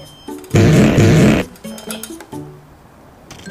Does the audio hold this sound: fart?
yes